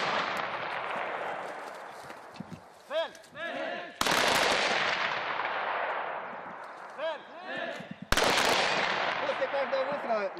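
Two loud gunshots ring out during a police shooting exercise, each followed by a long echoing decay, while someone talks between and under the shots.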